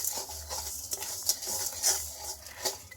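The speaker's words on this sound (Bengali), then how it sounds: "এবারে চিনিটাকে আমি নাড়াচাড়া করব একদম গলিয়ে দেবো" A spoon stirs sugar in a pan as it melts for a sweet tamarind chutney, giving soft repeated scraping strokes with faint sizzling, close and steady with brief brighter clinks.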